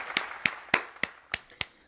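Clapping for a rapper: about seven sharp, evenly spaced claps at a slow, steady beat, close and distinct with silence between them.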